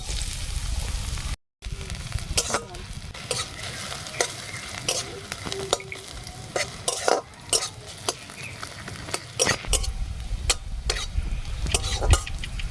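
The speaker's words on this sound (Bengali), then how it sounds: "পেঁয়াজটা ভাজা হয়ে গেছে, এইবারে তুলে নেব।" Onions fry in hot oil in a wok for a pumpkin bharta, a steady sizzle broken by frequent sharp clinks and scrapes of a spatula stirring, close and continuous with no talking.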